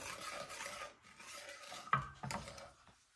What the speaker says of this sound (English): You could see that I'm cutting the ham off the bone